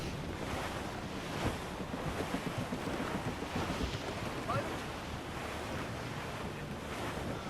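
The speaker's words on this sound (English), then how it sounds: "Wind's getting vicious." Wind and ocean waves around a sailing ship in the video game Assassin's Creed Rogue, a continuous roaring rush of gusting wind and surf, loud and steady with no voices.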